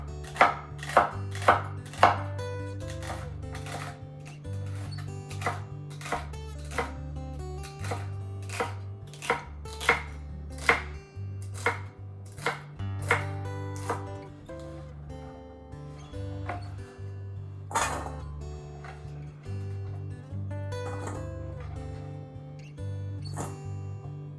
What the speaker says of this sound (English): I'm going to start carefully cutting the celery, and I've got 2 stalks of celery here